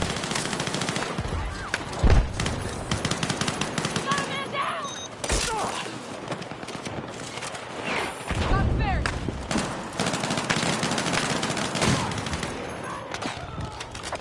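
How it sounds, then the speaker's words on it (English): Dense automatic gunfire from the Battlefield 6 beta rattles almost nonstop in rapid bursts, with heavy thuds and impacts, loud and close, with voices mixed into the battle noise. "I'm sending out fucking thousands of bullets at these motherfuckers a minute"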